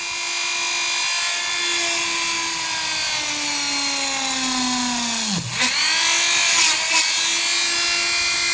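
A power drill whines steadily at high speed with a non-standard bit, drilling holes for a lab power supply; the pitch sags as it bites into the material, dips sharply, then recovers and runs on, loud and close.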